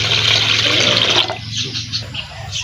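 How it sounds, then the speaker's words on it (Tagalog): Water runs into a cooking pot, a loud rushing pour that stops partway through and leaves softer trickling and splashing behind it. "Lagyan na natin ng tubig ang ating kasirola."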